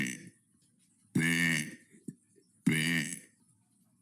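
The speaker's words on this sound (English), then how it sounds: "That was day 13 of burping for 100 days." Two loud, close burps, each lasting about half a second, separated by a quiet pause with faint breathing and mouth noises.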